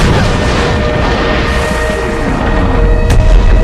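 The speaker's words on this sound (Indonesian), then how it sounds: "lalu mencoba melepaskan tembakan pada kapal selam tersebut" Naval guns aboard an Allied warship fire on a German submarine in a war film, a loud, dense roar of blasts and rumbling that fills the whole span with a sharp crack near the end.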